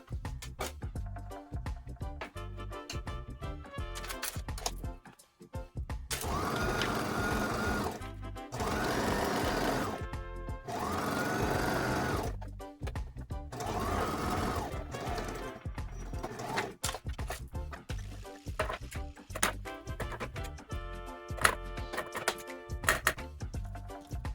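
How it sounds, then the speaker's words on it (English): A sewing machine runs in several bursts of rapid mechanical stitching while sewing a shirt blouse closed, starting and stopping with short pauses between, close and fairly loud with no talking. "what I'm going to do is to go on the sewing machine here and just close that up"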